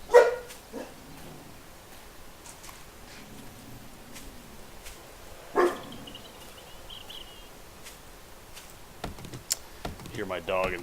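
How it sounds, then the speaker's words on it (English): A pet dog barks in the background of a room during 7 Days to Die gameplay, a few short, sharp yips at the start, around five and a half seconds and near the end, faint under the game sounds. "Hear my dog in the background."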